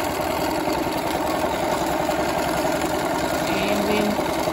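A sewing machine runs continuously while stitching tiny zigzag and straight anchoring stitches with Madeira Supertwist thread on Romeo cold water soluble stabiliser, making a dense, even mechanical whirr at close range with no pauses.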